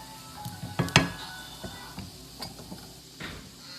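Broccolini sautés in olive oil with toasted garlic, giving a quiet, low sizzle broken by a few sharp clinks and scrapes of a utensil against the pan.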